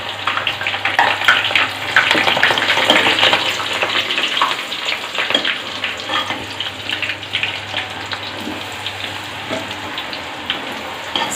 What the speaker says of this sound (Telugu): ముందుగా కాగిన నూనెలో వెల్లుల్లిపాయలు వేసుకోవాలి.